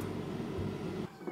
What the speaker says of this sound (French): Oh wow, on a un chat.